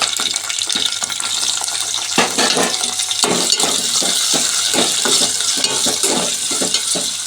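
Tomatoes, curry leaves, onions and green chilies fry loudly in hot oil for a village-style crab and prawn tomato curry, a dense steady sizzle with repeated stirring scrapes throughout.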